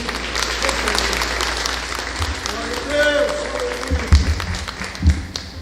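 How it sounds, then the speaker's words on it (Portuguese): A church congregation claps together in sustained applause, a dense, steady patter that fills the room, with a voice speaking over it and a few louder thumps near the end. "Salva de palmas para Jesus."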